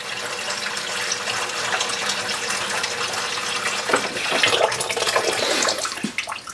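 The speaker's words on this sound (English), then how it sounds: "I'm just going to put a bit more water in the sink now." Tap water runs into a sink in a shed workshop, a steady hiss that grows louder and splashier toward the end as the flow builds, with no talking.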